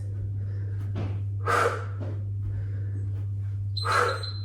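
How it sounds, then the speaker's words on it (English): Loud breathy exhales pushed out forcefully during a yoga HIIT workout, two strong whooshing breaths with softer breathing between them. "Nice noisy exhales."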